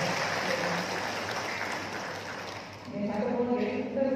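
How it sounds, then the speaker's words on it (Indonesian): Steady applause from a room of health workers at an awards gathering, a broad wash of clapping that fades before voices and a new burst of clapping come in. "saya ucapkan terima kasih dan tepuk tangan bagi kita semua"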